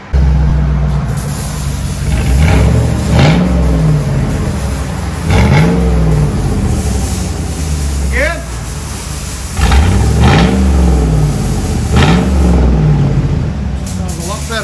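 A 2001 Chevy Tahoe with a 5.3L V8 and straight pipes in place of the muffler revs in repeated short blips over a deep idle rumble, close by, with someone speaking briefly between revs.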